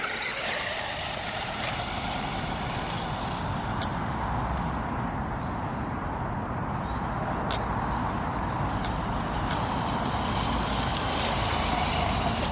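An FTX Ramraider brushed RC monster truck drives off-road through leaves, its small electric motor whirring continuously with scattered sharp clicks and rustles from the terrain.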